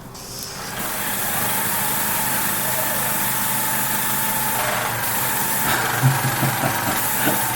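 A pressure washer's small gasoline engine starts and runs at a steady, loud, close drone, with a brief rising catch at the start and faint voices in the background.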